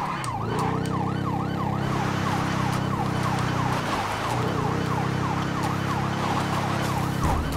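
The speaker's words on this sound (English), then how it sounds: "this guy doesn't know what to do when he hears police sirens" Police sirens wailing in the video game GTA Online, a loud and steady rising-and-falling wail over a low vehicle rumble, with no one talking.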